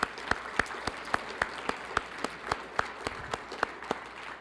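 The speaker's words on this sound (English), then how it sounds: "can we just give a round of applause for Albertsons?" Audience applause at a Special Olympics New Mexico Law Enforcement Torch Run event, steady scattered claps with sharp individual hand strikes standing out at a regular rhythm, moderately close in a large room.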